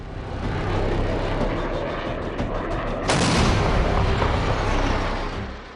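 Rafale fighter jet flying, a loud rushing jet roar that swells, with a sharp surge of blasting noise midway as it passes close, then a sustained roar fading slightly at the end.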